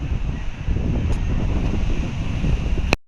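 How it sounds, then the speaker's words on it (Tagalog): Strong wind buffets an outdoor microphone by the sea, a steady roaring rumble with surf-like wash throughout, loud and continuous, ending in a sharp click. "Lakas ng hangin"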